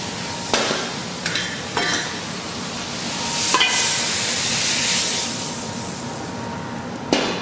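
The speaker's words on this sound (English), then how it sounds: "That's wok cooking on the Capital Culinarian range." Food sizzles and fries loudly in a wok over a Capital Culinarian gas range, a steady roar of searing punctuated by several sharp metal scrapes and clanks of a utensil stirring against the pan.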